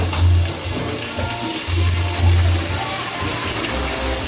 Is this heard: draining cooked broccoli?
yes